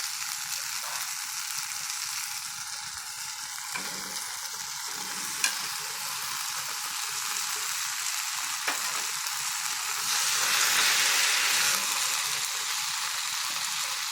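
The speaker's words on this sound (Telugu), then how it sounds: "ఇప్పుడు క్యాప్సికమ్ ముక్కలు వేసేద్దాం" Capsicum pieces fry in a pan for a capsicum paneer curry, giving a loud, steady sizzle with a few sharp stirring clicks and no talking.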